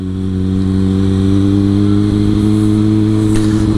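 Kawasaki Ninja ZX6R sport motorcycle engine running steadily during a test ride, a loud continuous mid-pitched drone with a slight rise in revs toward the end, close and without talk.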